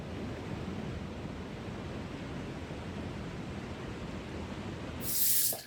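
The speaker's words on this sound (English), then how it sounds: "And then once it stops tingling, rinse it off." Water splashes and rushes steadily while a face is rinsed after shaving, a soft broadband wash that swells briefly near the end, with no voices.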